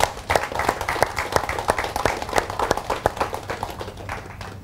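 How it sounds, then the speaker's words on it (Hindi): Audience at a motivational talk in India claps together, a dense burst of sharp hand claps that rises quickly and then thins out over several seconds, with a faint voice underneath. "इनके लिए तालियां।"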